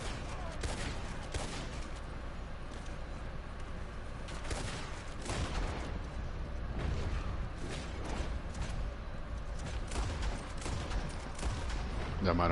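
Pistol and rifle gunfire in Red Dead Redemption 2, a dense, steady stream of overlapping shots and booms running without pause over a noisy game soundscape, with talk mixed in beneath.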